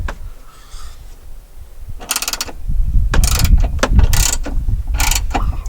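A ratchet wrench loosening tight bolts while pulling back the dash of a 2006 Jeep Wrangler TJ for heater replacement, loud close bursts of rapid clicking in several separate strokes over low mechanical rattling.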